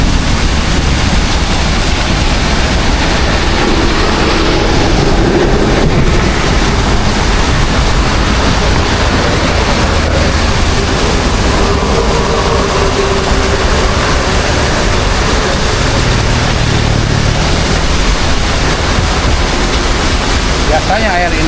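Floodwater surges down a river feeding into Cidawolong, a loud, steady broadband rush and roar with wind buffeting the microphone and a voice speaking underneath.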